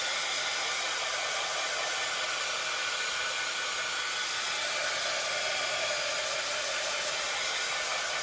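A hair dryer blows steadily and loudly at close range over a painted wooden sign, a continuous unbroken whoosh with no voices.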